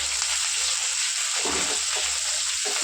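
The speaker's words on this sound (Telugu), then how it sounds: "ఉల్లిపాయలు వేగిపోయినాయి కదా" Sliced onions fry in a pan with a steady, close sizzle and hiss. Occasional soft stirring sounds come through, and there is no talk.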